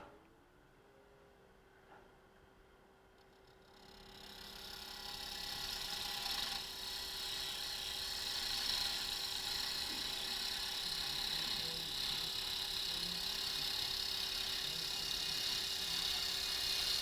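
A wood lathe spins up and runs steadily as a wooden box lid is trued up, a continuous whirring hum with a broad rushing hiss that grows louder and holds through the rest, close by.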